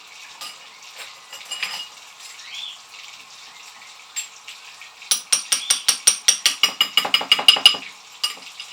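Kitchen work while cooking an East Asian-inspired dinner: light clinks and a brief rush from a tap, then a quick rhythmic run of sharp metallic taps like stirring or utensil strikes, close and fairly loud, with no speech.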